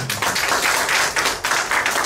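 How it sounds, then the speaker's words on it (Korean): A dense round of audience applause for a speaker at a 2018 deep learning summer school talk at GIST, many hands clapping steadily and fairly loudly throughout. "일단은 너무 좋은 말씀해주신 테리님께 다시 한번 큰 박수 부탁드립니다."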